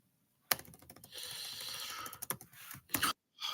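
Someone types on a computer keyboard in a fast, continuous run of clicking keystrokes, close and fairly loud, broken by a few short pauses and sharper isolated key hits near the end.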